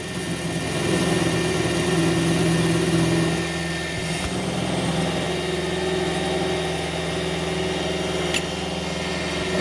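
A metal lathe spinning at 1,000 RPM during a facing cut gives a loud, steady droning hum with a constant tonal whine, close by and unbroken throughout.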